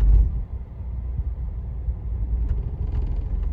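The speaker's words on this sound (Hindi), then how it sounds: "तो अब आपने देख लिया भाई चढ़ रही है गाड़ी बिना रेस दिए भी" A 2020 Hyundai i20 Petrol Magna climbs a steep slope without extra revving. Its engine gives a low, steady, close rumble with slight unevenness, and there is no talk over it.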